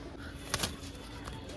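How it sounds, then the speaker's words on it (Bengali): High-quality pigeons on a loft give soft, low coos close by, a brief cooing burst over quiet background noise. "ফটকার ওপর খুব হাই কোয়ালিটির পায়রা আছে"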